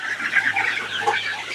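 Young Fayoumi chickens, about six weeks old, in a large poultry shed holding thousands of birds, make a steady, dense chorus of chirps and clucks, continuous and moderately loud with a low hum beneath.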